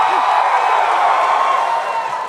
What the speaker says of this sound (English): What a crowd, what a Saturday night crowd in Columbus.